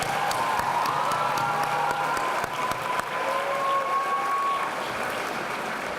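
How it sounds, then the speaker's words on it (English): Students at a school dedication ceremony clap for themselves, a sustained crowd applause heard from within the hall with some faint cheering and tonal squeals layered over the steady clapping. "Give yourselves a round of applause."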